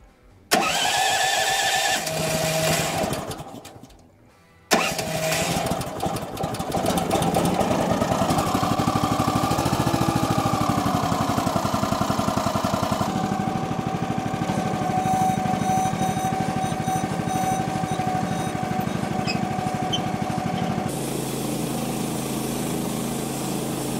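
Woodland Mills HM130 Max sawmill engine starting with a brief rough burst, then running steadily and loudly while milling logs for roof decking, its pitch shifting slightly under changing load before easing to a lower hum near the end.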